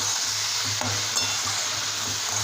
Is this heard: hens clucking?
no